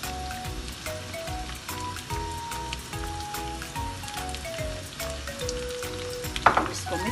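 Onions and garlic fry in hot oil alongside okra, a dense close sizzle under steady background music, with a brief louder clatter near the end and no talk.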